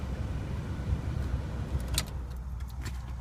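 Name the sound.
Volkswagen Passat B5 car engine being shut off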